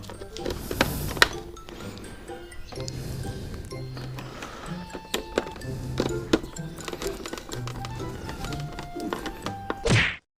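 Close knocks, thunks and light clatter of plastic body panel work as a panel is fitted and bolted onto a Yamaha R15 V2 motorcycle, irregular taps scattered throughout with a brief louder rustle at the end.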